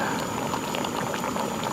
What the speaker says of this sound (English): Wow, it's already boiling